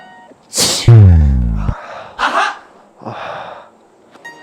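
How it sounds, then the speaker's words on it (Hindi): A person sneezes in a scene from an Indian Hindi-language film: one loud, close sneeze with a sharp intake and a falling voiced burst, followed by a few softer breathy sounds. "ये सहरी छींक है"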